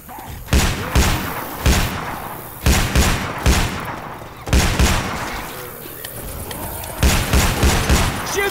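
Rapid gunfire at the Tank in Left 4 Dead, repeated loud bursts of shots in short clusters about a second apart with heavy thumps, close and dense, with voices faintly underneath.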